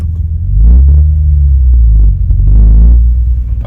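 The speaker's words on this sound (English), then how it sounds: "You're going to come on the gas, the accelerator, depending on where you're from, and come off the clutch." Manual transmission car pulling away as the clutch comes up and the throttle opens: a deep, loud engine rumble swells, dips briefly as if between gears, then swells again, with no talking.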